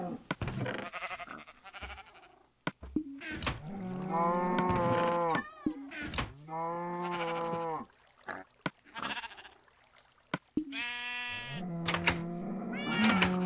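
Several long, low, drawn-out moos and bleats from a cow and nearby farm animals in the Minecraft video game, repeating in separate calls with short gaps and no talking.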